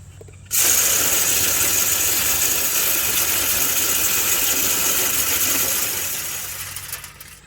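An All Seasons 600 lb stand-and-fill deer feeder spins and flings out corn in a loud, dense hissing rush that starts suddenly, runs for several seconds and then fades as the spinner slows, with no talking.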